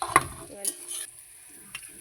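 Chilies dropped into a pan of onions frying with salt, giving a soft sizzle with a few sharp spoon-on-pan clinks and stirring scrapes, close and fairly quiet.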